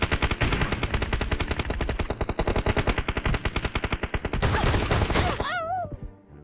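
Rapid repeated gunfire from a new shotgun in PUBG Mobile, a dense rhythmic burst of loud shots for several seconds that stops abruptly, followed by a short voice sound.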